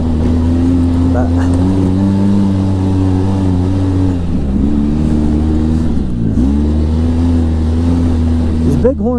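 A 2012 Polaris RZR 800 S side-by-side drives on slick wet snow, its engine holding a steady, loud mid-pitched drone with slight dips in revs, and voices talking over it throughout.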